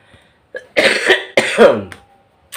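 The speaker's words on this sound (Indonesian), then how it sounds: "sorry lagi batuk" Two sharp, close coughs in quick succession, each a harsh burst of breath, with near silence before and after.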